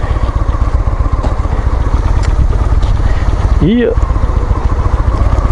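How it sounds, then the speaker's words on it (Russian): A Honda Shadow motorcycle engine runs at a steady idle, loud and close, with a brief whistling tone partway through and a short spoken word. "Можно просто завести двигатель, опять-таки, там же, где вы и стоите."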